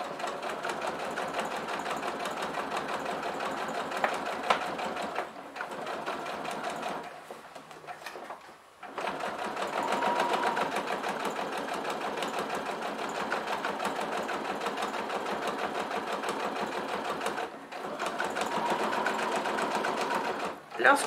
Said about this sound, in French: Je couds donc tout le tour de ce rectangle